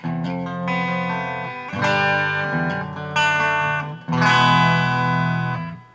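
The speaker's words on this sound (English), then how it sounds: "here's the clean channel. This is just basic Strat with EMGs." Stratocaster-style electric guitar with EMG pickups, coil tapped, played through the clean channel of a Carvin X100B amp: four sustained strummed chords in a row, bright and shimmering with reverb, each ringing out before the next.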